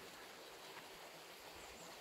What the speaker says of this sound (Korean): 물소리 또한 졸졸졸졸.